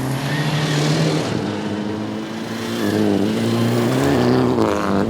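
Rally car driving fast on a gravel stage at the Rocky Mountain Rally 2023, its engine roaring with shifting pitch as it accelerates and lifts, moderately loud with no voices.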